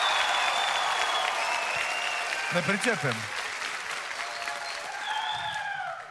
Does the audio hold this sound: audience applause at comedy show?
yes